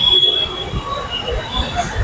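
A metro train's wheels rumble and squeal faintly inside Sitabuldi metro station in Nagpur, with low pulsing rumble and high metallic whines.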